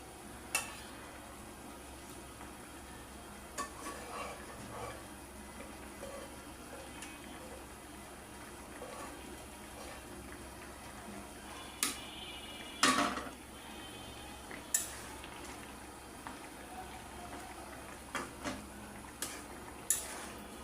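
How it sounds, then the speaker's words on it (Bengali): Pabda fish curry with potato and flat beans simmering in a pot, a faint steady bubbling hiss with occasional light clinks and taps from utensils, no voices. "আর আমি নাড়া দিব না, হয়ে ফুটছে আমার তরকারি।"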